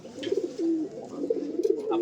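A white King pigeon chick coos in repeated low, throaty bursts at close range, with a faint voice briefly audible in the background.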